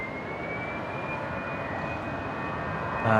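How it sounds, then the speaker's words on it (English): Fokker airliner doing engine run-ups on the far side of an airport runway, a steady distant turbine whine and roar holding constant, faint and uninterrupted with no voices. "Sounds like this Fokker over on the other side of the runway doing some engine run-ups."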